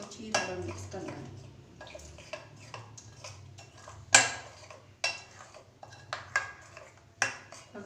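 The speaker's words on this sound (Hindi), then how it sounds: "अब हमने इसको अच्छी तरह मिक्स करना है।" Chicken pakora batter being mixed in a bowl, with repeated scraping and clinking of a utensil against the bowl in irregular bursts, close and moderately loud, over a low steady hum.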